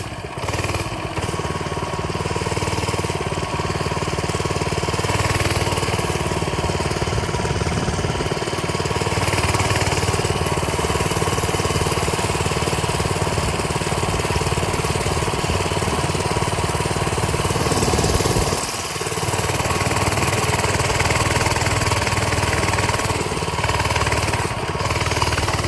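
A Coleman mini bike's small gas engine runs steadily and loudly throughout, a constant buzzing drone with slight dips in pitch near the end.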